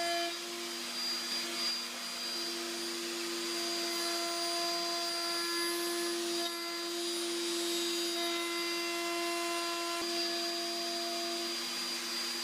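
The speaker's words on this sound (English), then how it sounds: "I then shaped the pommel using the same router and bit" A router with a bit shapes the wooden pommel of a sword, giving a steady high-pitched motor whine with a constant tonal hum, sustained and unbroken at moderate loudness.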